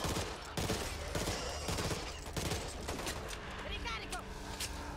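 Rapid gunfire in the co-op zombie shooter Back 4 Blood, repeated sharp shots and bursts in a dense volley, loud and close, with voices and game effects underneath.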